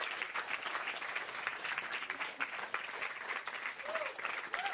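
A theatre audience claps steadily for the actors at the end of a live comedy show, dense sustained applause heard from within the hall.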